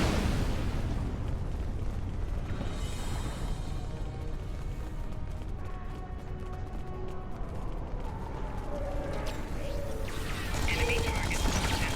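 Detonated charges erupt in Star Trek Online, a sustained, loud rumbling blast with crackling debris and mechanical noise that stays dense throughout, ending in a brighter surge.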